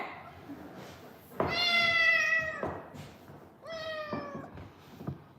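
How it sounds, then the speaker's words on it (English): A male house cat meows loudly at close range, two drawn-out, rising cries with a softer one after, heard over quiet indoor room tone. "Cat right in the background."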